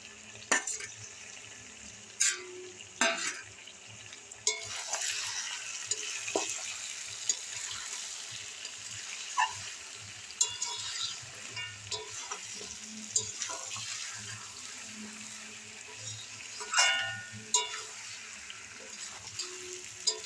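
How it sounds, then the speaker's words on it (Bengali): Pre-fried potatoes stir into a meat curry sizzling in a pan, a steady frying hiss with scraping spoon strokes and occasional clacks, close and continuous throughout. "এবার ভেজে রাখা আলুটা দিয়ে দেবো।"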